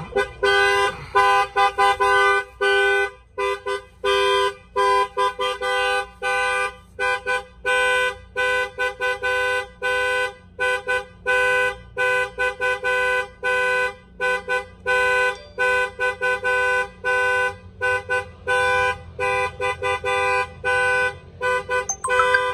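A truck's alarm blares a rapid, continuous pattern of loud horn honks, repeating in quick bursts for over twenty seconds with no pause in Miami.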